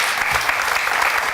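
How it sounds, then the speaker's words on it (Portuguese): A studio audience claps warmly for two guests on a health talk segment, a brief, dense burst of continuous applause. "Uma salva de palmas para ambas."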